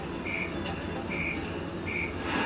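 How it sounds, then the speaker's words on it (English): Three short, high chirps at a steady pace over a constant low hum, like a recording of crickets played in a noisy room; a cricket recording played from a feeding device in a zoo bear enclosure. "the sound of crickets alerts the bears"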